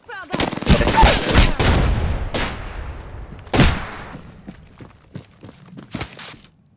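Video game gunfire during an online shooter match: several loud, close bursts of shots with sharp cracks and ringing decay, followed by scattered fainter pops, with a voice talking briefly in between.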